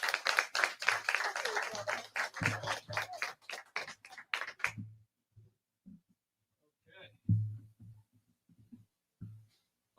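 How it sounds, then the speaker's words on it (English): A gathering gives a round of applause at a community talk, a few seconds of scattered, fairly close hand claps that stop abruptly, followed by near silence broken by a few isolated taps and knocks. "Give a big round of applause"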